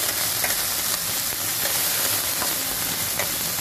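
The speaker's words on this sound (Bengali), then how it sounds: "ভাজতে হবে মশলাটা, যাতে মশলার কাঁচা গন্ধটা না আসে" Spice paste with turmeric frying in a pan for a pangas fish bhuna, a steady close sizzle with crackly spits across the whole stretch and no talk.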